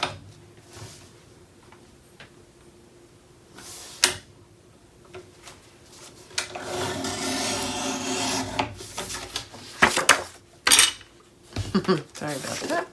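Paper being trimmed for a Graphic 45 Joy to the World craft project, heard as close rubbing, scraping and cutting strokes, with a sustained stretch in the middle and sharper bursts toward the end.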